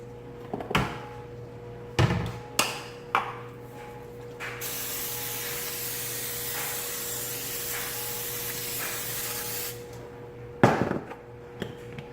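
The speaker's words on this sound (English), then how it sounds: "I'm going to spray this with some cooking spray." Several short hissing bursts of cooking spray onto a hot grill, then a long steady spray hiss lasting several seconds, followed by a couple more quick sprays over a low background hum.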